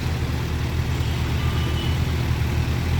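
A steady engine drone from motorcycles riding on the Tumkuru highway, a constant low rumble with wind noise and no clear revving, at moderate level without speech.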